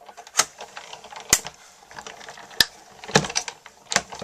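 A manual die-cutting machine feeding Gray Granite card stock through and back, sharp mechanical clacks and ratcheting clicks spaced about a second apart, close and otherwise quiet.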